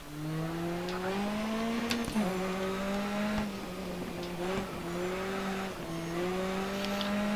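Race car engine in GRID Autosport held on half throttle, a steady droning tone with slight pitch dips as it shifts, loud and continuous throughout with brief tire or impact noises.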